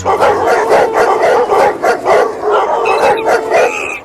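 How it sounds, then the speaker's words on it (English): A pack of about twenty dogs at a front door bark, yip and howl together in a loud, continuous, overlapping chorus close by. "With 20 dogs, they were at the front door when Monkey went out."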